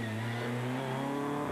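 Rally car at the 2003 Donegal Harvest Rally, engine roaring loud and close at high revs with a steadily rising pitch as it accelerates hard, continuous and alone.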